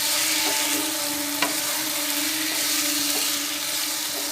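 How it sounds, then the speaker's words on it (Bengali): Vegetarian cabbage curry with a little sugarcane jaggery sizzles as it is sautéed in a pan, a steady close hiss with faint scraping clicks from stirring and a low hum beneath, no speech. "এবার আমি এই যে অল্প করে একটু আখের গুড় দিয়ে দিলাম দিয়ে সুন্দর করে আবার কষিয়ে নেব"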